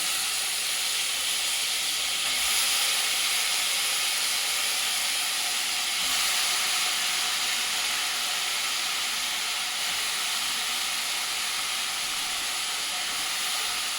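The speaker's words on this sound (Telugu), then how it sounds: "ఫస్ట్ ఆయిల్ వేసుకొని ఆయిల్లో ఉల్లిపాయలు వేసి వేగాక అప్పుడు మనం బంగాళదుంప వేసుకోవాలి" Onions frying in hot oil as the base for a potato fry curry, a constant loud, close sizzle and hiss that holds steady without a break and with no one talking.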